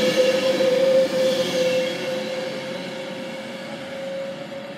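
A Class 390 electric train departs Warrington Bank Quay station bound for London Euston. It passes close and loud with a sustained tonal whine and a rumbling roll that slowly fade.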